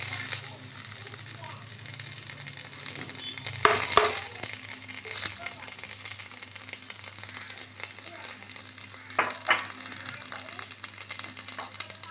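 Butter melts and sizzles in a heated pan while restaurant-style butter chicken is cooked at home, a soft steady frying hiss with a few clinks and scrapes, under a person talking.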